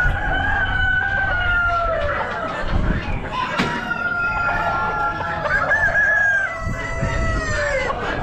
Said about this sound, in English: Red roosters.